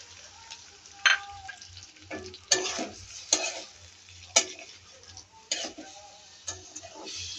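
Onion, garlic, tomato and carrot sizzle in a pan for noodles and pasta while a utensil stirs them in repeated scraping bursts, with a steady frying hiss underneath and no talking.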